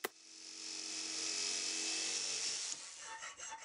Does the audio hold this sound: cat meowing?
no